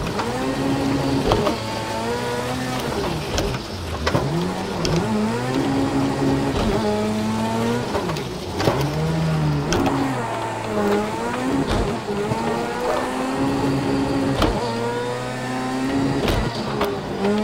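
Rallycross car engine in Project Cars 2, a loud, continuous racing drone whose pitch climbs and drops sharply through repeated shifts and downshifts, close and steady with no talk over it.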